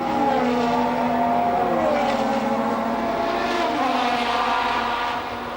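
Formula 1 cars of 1988 racing at Imola, Italy, with Ayrton Senna's leading car lapping Michele Alboreto's Ferrari: loud, sustained high-revving engine whine with pitch shifts as cars pass, fading slightly at the end.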